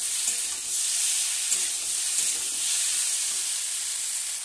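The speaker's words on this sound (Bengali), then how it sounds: "একটু জল দিয়ে ভালো করে কষে নিচ্ছি" Chili powder and turmeric frying with fish and drumsticks for a Bengali curry, stirred in a pan with a little water, making a loud, steady sizzle with faint scraping strokes throughout and no voices.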